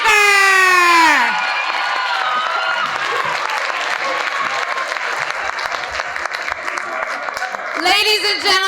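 An audience at an oratorical contest and art competition awards ceremony breaks into sustained, loud applause with some cheering and whoops, and a voice is briefly heard over the start and the end.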